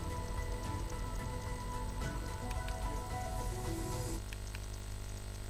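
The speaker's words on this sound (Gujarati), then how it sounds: "પાટણના ગ્રામ્ય વિસ્તારોમાં વરસાદ વરસી રહ્યો છે" Rain falling in a rural area of Patan, a constant hissing patter of drops on surfaces, steady and close, with a low hum and faint tonal background sounds underneath.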